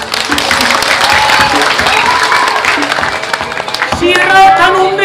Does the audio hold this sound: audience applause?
yes